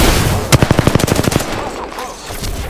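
Rapid burst of about ten automatic-weapon shots in the video game Apex Legends, loud and close, followed by a quieter stretch of background game sound.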